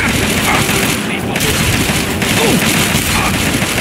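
Rifle fire in the modded game Fallout, a dense barrage of booming shots and explosions filling the whole stretch, loud and continuous with a voice talking underneath.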